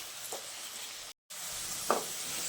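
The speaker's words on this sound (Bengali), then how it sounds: "আলুটা আমি বেশ একটু লাল করে ভেজে নেব" Diced potatoes fry in a pan with a steady, close sizzle, broken by a few stirring scrapes and one brief full silence partway through.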